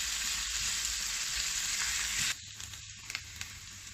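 Onions sizzle and crackle steadily in a hot pan, loud at first, then quieter after a sudden drop, with a few light clinks of stirring.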